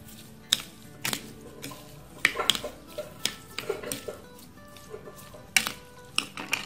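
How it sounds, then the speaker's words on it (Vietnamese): Sugar being stirred into butterfly pea flower jelly, a spoon clinking and scraping against the bowl in irregular taps and scrapes, close and fairly clear, with no talking. "Mình trộn lên cho cái đường này nó tan ra ha"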